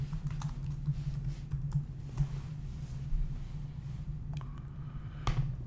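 Keys clatter on a computer keyboard in a quiet room, a steady run of light taps with a few sharper strokes near the end over a low background hum.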